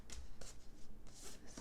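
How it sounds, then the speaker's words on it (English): A tarot card deck being shuffled by hand, a quick series of crisp riffling flicks and soft slaps, close and fairly quiet, with no talking. "So let's shuffle,"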